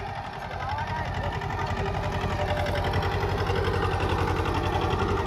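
A mini tractor engine chugs steadily and loudly at close range while sowing mustard in a field in the Tharad area, its fast even pulse unbroken throughout.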